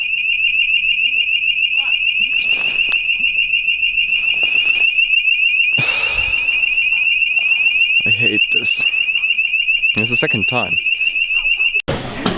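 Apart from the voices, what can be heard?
hotel fire alarm ringing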